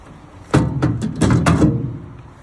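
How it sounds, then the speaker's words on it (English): A wood stove door on a hot tub heater at a lakeside holiday rental is pushed shut, giving a sharp metal clunk followed by a few rattling knocks and latch clicks over about a second, close and fairly loud. "Make sure that the vent is fully open on the door when you shut the door"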